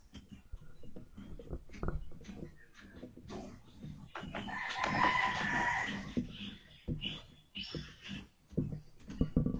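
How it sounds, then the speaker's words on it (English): Rooster crowing in a drawn-out cock-a-doodle-doo midway through, heard faintly in the background of an academic gathering with clucking and room noise around it. "I don't know where the sound of the crow is coming,"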